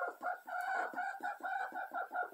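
A Rhode Island Red cross hen clucks steadily in a rapid, rhythmic series of short chattering calls, close and fairly quiet, with no other sounds.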